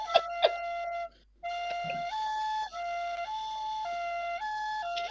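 A tonal whistle-like melody mimicking an ambulance siren tune, played as a joke, with sustained stepping notes close and moderately loud after a couple of sharp clicks, no talking.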